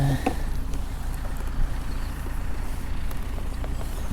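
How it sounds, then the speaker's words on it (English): A low, steady engine rumble from a tractor passing a carp fishing spot runs under the whole stretch, with faint outdoor background noise on top. "Got a tractor come round and join us."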